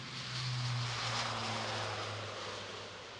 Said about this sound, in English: The A400M Atlas starts his takeoff run.